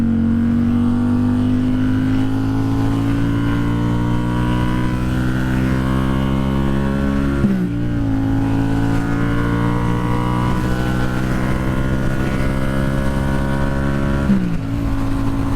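Steady engine drone and rushing wind from a motorcycle cruising on a freeway at 65 to 70 mph, loud and continuous, with a rising engine tone that dips briefly twice as if shifting gears.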